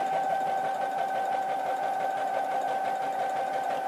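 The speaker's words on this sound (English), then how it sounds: "all we're going to do is just sew them down like this" A sewing machine stitching down Dresden butterfly quilt pieces, running steadily in a fast even rhythmic whir with a humming motor, close and uninterrupted, with no voices.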